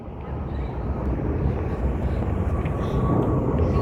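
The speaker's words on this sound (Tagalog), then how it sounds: "May airplane ba? May airplane." Airplane passing overhead near a Hong Kong bayside promenade, a steady broad engine roar that holds loud through the whole stretch with no break.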